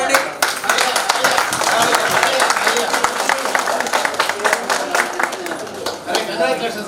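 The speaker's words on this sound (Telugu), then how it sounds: "ఒకసారి చప్పట్లు కొట్టండి." A group at a 1973 agriculture B.Sc. batch reunion meeting claps hands together, a dense sustained patter of many hands filling the room, with some chatter and voices mixed in.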